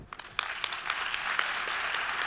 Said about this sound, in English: together with clapping exactly on time